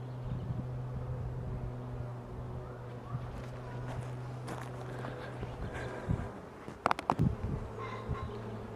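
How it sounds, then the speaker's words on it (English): Bees buzzing around an open beehive during an inspection: a steady low drone hums throughout, with a few louder knocks and rustles near the end. "they become the new bees that you see flying around me here"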